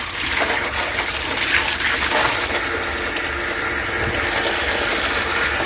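Water gushes steadily into a garden pond's filter tank as it fills, a continuous broadband rush with a faint mechanical ticking underneath, close and unbroken throughout.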